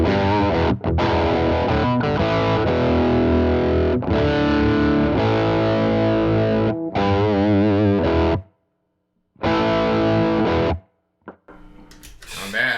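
Electric guitar played through a Tumnus overdrive pedal, giving thick, sustained driven chords and riffs with a few short gaps and a brief silence near the end, loud and close.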